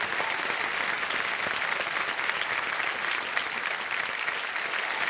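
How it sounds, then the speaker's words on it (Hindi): A studio audience on the KBC game show claps continuously and loudly, forming a thick, unbroken wall of applause with a faint crowd murmur underneath. "तालियां बज जाए इनकी"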